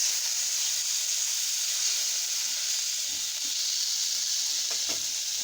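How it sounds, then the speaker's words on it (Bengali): Rohu fish frying in a pan with little oil, a steady bright sizzle that runs throughout, with a few faint soft knocks near the end as the pieces are flipped. "এখন মাছগুলো উল্টে দিলাম"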